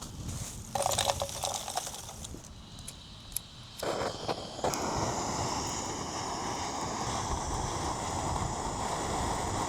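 Steady roaring wind buffets the microphone at a motorcycle campsite beside a grill, with irregular gusts and clatter early on, settling into a constant loud rush.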